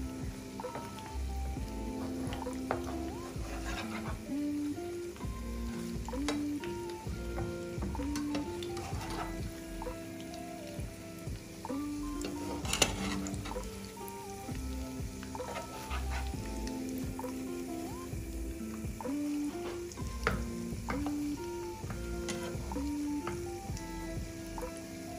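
Fish cutlets fry in a pan with a steady, moderate sizzle and crackle throughout, broken by occasional soft scrapes as they are turned, over a faint background music bed.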